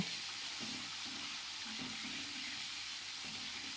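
Shrimp fry in hot oil in a kadai wok, a continuous hissing sizzle at close range with faint bubbling underneath and no speech.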